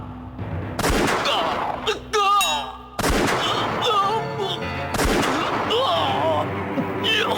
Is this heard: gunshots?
yes